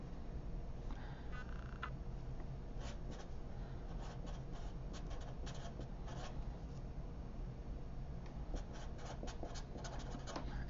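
During a materials science lecture on specimen sectioning and mounting, a diagram is drawn by hand, heard as soft, close scratching and tapping strokes of a pen or marker over a steady room hiss, with no talking.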